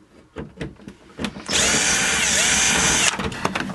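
A power drill backs screws out of a broken TV, whining loudly and steadily for about a second and a half, with a few handling clicks and taps before it starts.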